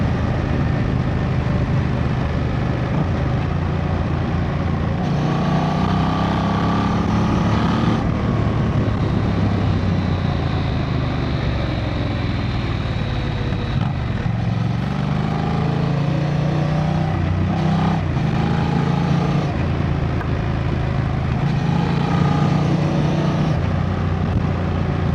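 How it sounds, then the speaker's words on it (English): A Honda Transalp XL 750 motorcycle engine drones continuously under a steady rumbling exhaust, loud and close, with shifting revs throughout, riding through hills. "The exhaust note and the character, man, that is what makes this bike unique."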